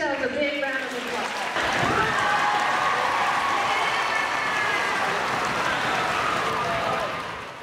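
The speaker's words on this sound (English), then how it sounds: "So give yourselves a big round of applause" An audience at a Special Olympics National Banner Unified Champion School recognition ceremony breaks into loud, sustained applause and cheering that fills the room for several seconds, following a voice heard briefly at the start.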